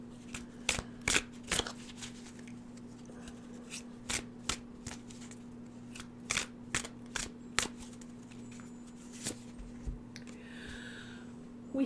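Tarot cards shuffled and pulled by hand, a quiet series of crisp flicking riffles and slaps spaced irregularly over a steady low hum, no talking.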